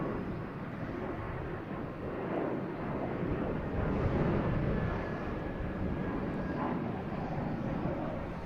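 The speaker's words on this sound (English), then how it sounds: "we also got a JetBlue taking off" Faint and distant, a JetBlue airliner takes off at Boston Logan airport, its engine roar a broad wash that swells slightly toward the middle, with voices murmuring at times.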